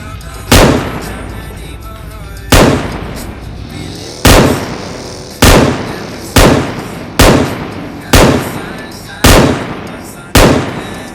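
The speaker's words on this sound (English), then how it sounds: "Oh, there's someone shooting." Loud gunshots from a battle royale video game ring out in eight sharp reports, irregularly spaced about a second or two apart, each with a booming decaying tail, no talk over them.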